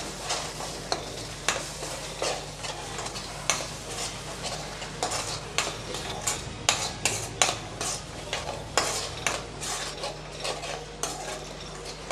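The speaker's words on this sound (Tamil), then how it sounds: "இப்போ நம்ம அரைச்சி வச்ச மசாலாவை சேர்த்துக்கலாம் நல்லா வதக்கி விட்டுறலாம்" Ground masala paste for a potato side dish is stirred and sautéed in a pan under a soft sizzle, with repeated sharp clinks and scrapes of a utensil against the metal and no talk.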